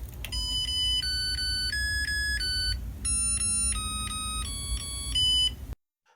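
A Japanese rice cooker plays a bright electronic start-up melody of clear beeping tones in a quick tune, sounding steadily for about six seconds before cutting off abruptly, with low background hum and no voices.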